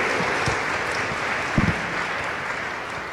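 An audience applauds at a women's global impact forum, a continuous broadband patter of many hands with a few louder nearby claps standing out, moderately loud throughout.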